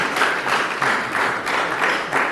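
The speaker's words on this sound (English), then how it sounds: "We can clap hands for him." An audience at a school talent competition final claps, a steady, moderately loud wash of many hands that continues for a couple of seconds.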